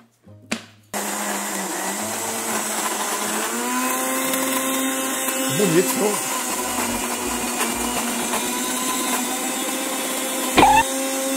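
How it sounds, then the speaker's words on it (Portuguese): Blender running steadily as it mixes ice cream ingredients with cinnamon, a continuous whirring motor that starts abruptly after a short pause and keeps going, with a person talking briefly near the start. "Dependendo do liquidificador, às vezes você tem que colocar um pouquinho d'água."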